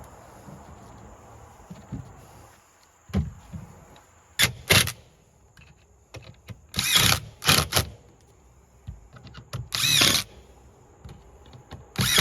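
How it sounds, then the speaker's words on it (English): Reciprocating saw trimming LP Smart Siding soffit panels on a house, several short harsh cutting bursts of one to two seconds each, separated by quiet pauses, fairly close and moderately loud. "I take the sawzall and trim where I need to be"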